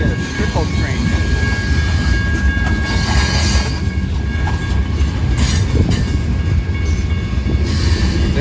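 A freight train rolls past a grade crossing on the Hannibal Sub at Sublette Avenue, a loud, continuous close-range rumble of wheels and cars with faint clicking and squeal throughout.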